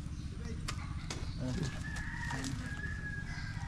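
A rooster crows nearby over a steady outdoor background hum, with faint chatter and other birds around.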